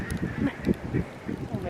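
Several ducks quack in a steady rhythmic series of short, low calls, fairly faint and close together, in winter in Wisconsin.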